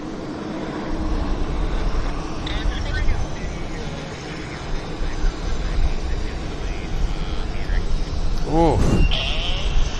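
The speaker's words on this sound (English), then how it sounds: "And we've got a United aircraft departing right now." United airliner departing from Vancouver Airport, a broad roaring engine rush that swells and holds across the scene, heard under nearby conversation and a short exclamation.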